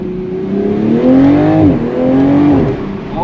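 A Toyota Supra MK5 pulls hard from inside the cabin, its engine note climbing loud and close, dipping at a gear change, then rising again through a second pull.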